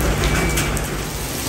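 Steady rain falls outdoors on a wet day, a dense, even hiss of drops on surfaces, loud and unbroken with no voices.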